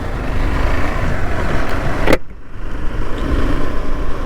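A KTM Adventure 390 motorcycle engine hums steadily beneath wind rush, then a sharp gear click and a brief dip as it pulls away in first gear before the engine noise and wind build again.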